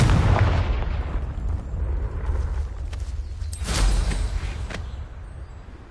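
A Confringo blast spell fires in the video game Hogwarts Legacy, with a fairly loud series of booming, crackling explosive bursts, one sharper burst near the middle, and no speech.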